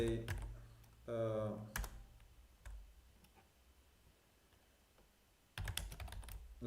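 Typing on a computer keyboard while writing a Facebook post, quick clusters of light clicking key taps with pauses between bursts, with short bits of a voice near the start.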